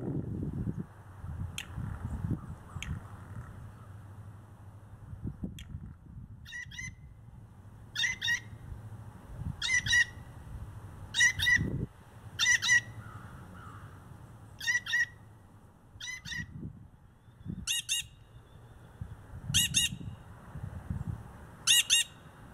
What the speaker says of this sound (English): we're going to be listening to three distinct kinds of calls that this blue jay can make